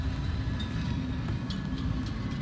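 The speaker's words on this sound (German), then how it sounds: "Der Zug ist nochmal eine Ebene weiter unter mir." A train in the video game Killzone: Shadow Fall rumbles past one level below, a continuous loud low roar with faint metallic clatter, with no talking.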